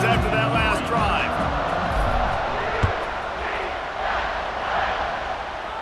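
A stadium crowd roars steadily in College Football 26 after a scoring drive, a broad continuous cheer with a commentator talking over it.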